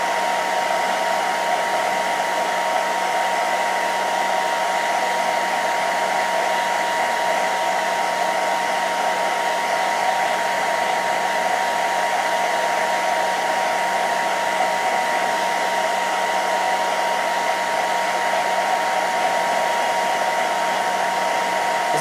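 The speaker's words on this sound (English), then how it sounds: "This is probably going to be really, really loud because the blow dryer is right next to you guys." A blow dryer runs very close by while drying hair, a loud, steady whir with a constant airy hiss that holds unchanged the whole way through, with no voices.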